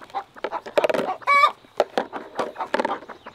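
Homestead chickens cluck close by in short, busy bursts, with one longer squawk partway through.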